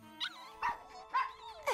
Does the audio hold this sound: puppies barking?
yes